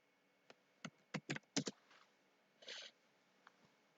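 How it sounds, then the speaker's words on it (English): Several quick keystrokes on a computer keyboard click in short bursts, followed by a softer run of typing and a final tap, all faint and close in a quiet room. "I'm going to type in my channel name and I'm going to type in journal."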